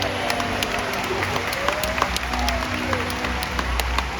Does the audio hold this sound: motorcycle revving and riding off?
no